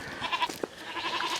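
Goats bleat on a small farm where pigs are also kept, with a few short, wavering calls at moderate distance over a steady outdoor background, no speech.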